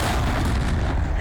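A single dense, booming gunshot from a TV crime drama fills the brief moment, loud and close with a heavy low-end thump and no talking.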